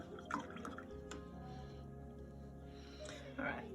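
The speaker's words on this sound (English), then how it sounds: "wash your brush really well." A paintbrush rinsed in a water jar during a children's colour-mixing painting lesson gives soft, faint drips and sloshes, with a brief splash near the start and another near the end.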